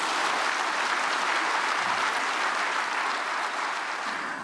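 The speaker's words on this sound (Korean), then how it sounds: "박수로 환영하겠습니다." Steady, full applause from a church congregation at a prayer meeting for peaceful reunification, welcoming a speaker; a dense, even roar of many hands that stays constant throughout.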